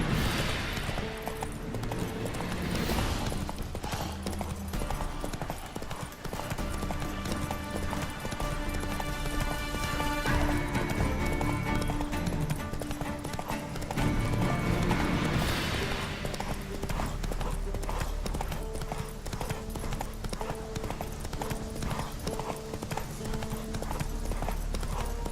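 Roach the horse gallops in The Witcher 3, a steady rapid clip-clop of hooves running on and on over a dense game soundscape of music and ambience, with a few brief whinnies.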